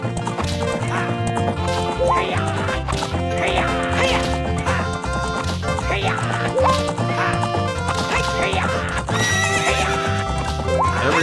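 In The Legend of Zelda: Ocarina of Time, a horse whinnies repeatedly over clip-clopping hooves, loud and up front over steady game music.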